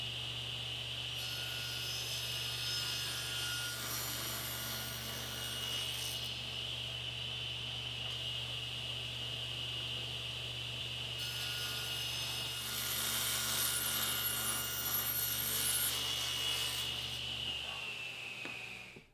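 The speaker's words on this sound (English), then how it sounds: "now I'll need to resaw the 1/2-inch plywood at 3/8" Power saw cutting through half-inch plywood, resawing it down to 3/8 inch for a zero clearance insert on a Bosch dual bevel glide miter saw; a steady loud whine with a low motor hum runs almost continuously, rising near the end before stopping.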